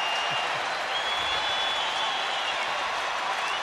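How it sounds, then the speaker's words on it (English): A baseball stadium crowd stands and applauds for the Texas Rangers, a dense continuous roar of clapping and cheering that holds at an even, loud level throughout. "This crowd standing and supporting Roy Oswalt and the Rangers."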